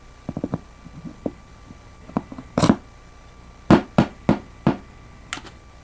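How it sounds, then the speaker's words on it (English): A hammer knocking staples flush into wood under leatherette camper bench upholstery: a handful of sharp, separate blows spaced irregularly, preceded by quieter scattered taps, close and fairly loud. "I just hit it with a hammer so it's flush with the wood"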